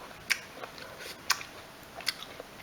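Lemon being bitten and chewed, peel and all, giving three crisp, sharp crunches spaced about a second apart, close and fairly quiet against a soft background.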